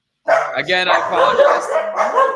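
A dog barks and yips amid a person speaking, the barking mixed in with the voice throughout.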